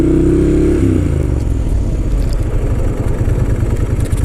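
A Suzuki Boulevard M109R motorcycle engine pulls away, a low throbbing rumble that rises in pitch at the start and then settles into a steady, close, rough drone.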